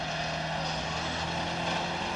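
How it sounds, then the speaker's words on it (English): Marco Martin's Ford World Rally Championship car in 2004, its damaged engine running on only three cylinders, gives a steady, buzzing, uneven engine drone held close and continuous for a couple of seconds with no voices. "It's on 3 cylinders, isn't it?"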